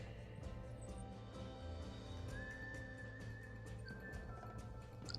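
Horses in the Red Dead Redemption video game neigh and whinny over a dense, steady rumble of game noise and hoofbeats, with a rising whistle-like tone midway.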